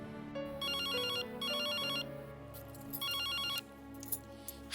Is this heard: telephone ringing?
yes